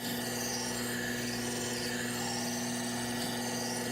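A knife blade being ground on a sharpening wheel to set a 20-degree bevel, giving a steady, continuous abrasive hiss and whir with a constant motor hum underneath, close and without a break.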